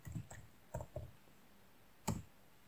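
Faint, sparse keystrokes on a computer keyboard while a password is entered during a Salix 15 GNU/Linux installation: a quick cluster of clicks, a pause, then one final sharper key press, with no talking.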